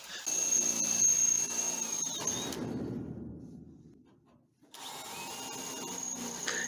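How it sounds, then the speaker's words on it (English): A power drill bores out plug welds on the rocker panel of a 1962 Chevrolet Impala under restoration, a loud steady whine that winds down, pauses briefly, then starts again and keeps running, with no speech. "it's a lot easier to drill out just a couple rather than all of them"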